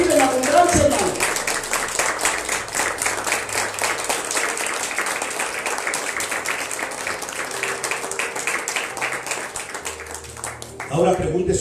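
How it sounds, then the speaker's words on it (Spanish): Church congregation at a Spanish-language service applauding the Lord, sustained rhythmic clapping of many hands for about ten seconds, with a voice speaking briefly at the start and end. "Denle un aplauso al Señor"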